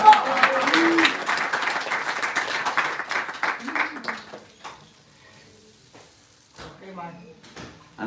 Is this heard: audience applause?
yes